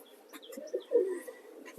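Soft, low pigeon coos come in a few short rounded phrases, fairly close, with faint chirps in the background and no talking.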